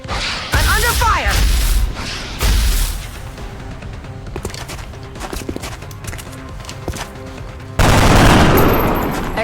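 Bursts of gunfire and impacts in the tactical strategy game XCOM: Enemy Within, Long War mode, coming in several loud volleys separated by quieter stretches, with a heavier, sustained burst near the end.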